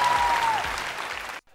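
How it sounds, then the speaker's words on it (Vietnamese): Wedding guests clap in a full, lively burst with a thin tone drifting over it at the start. The applause fades slightly before cutting off abruptly into near silence. "Và một tràng pháo tay thật lớn ngay lúc này hơn nữa được không thưa quý vị?"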